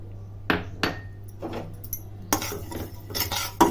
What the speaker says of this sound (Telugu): చిన్న శాకానికే కలుపుతూ ఉండాలండి మాడకుండా చూసుకోండి